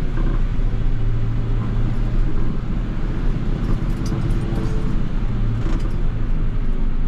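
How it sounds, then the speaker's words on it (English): Mercedes-Benz Unimog creeping down a steep 60% off-road track on full engine braking, a steady loud low diesel rumble and drone holding constant throughout with no talk. "Full engine brakes only."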